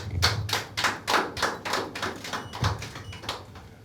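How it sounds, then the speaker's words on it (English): Applause from a small audience at an online pitch event, heard as uneven bursts of clapping with several distinct loud claps, close and fairly quiet, with no talk over it. "let's give them a big round of applause."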